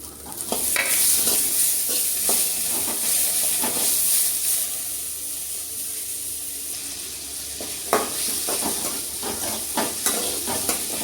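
Tomatoes and garlic fry in a pan, giving a steady close sizzle throughout, with scraping stirs and a few louder clanks of the spoon against the pan.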